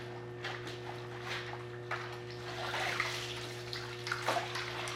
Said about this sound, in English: if I flush it in the water side here, that's going to let all that dirt and debris release into the water.